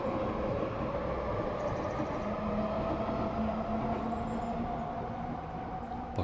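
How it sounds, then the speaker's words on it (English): A train rolls past with a steady, continuous rumble and faint metallic squealing tones, moderately loud and heard alone with no voices. "Fucking trains."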